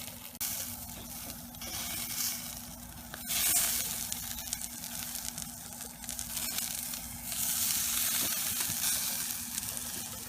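Pieces of wild duck sizzle in a hot pan as they are flipped, giving a fairly quiet, steady crackling hiss with a few clicks and swells, and no talking.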